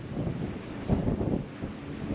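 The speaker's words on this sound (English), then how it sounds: "it's like total dust storm" Steady, roaring wind of a dust storm buffets the microphone in low rumbling gusts, constant and close, with no voices.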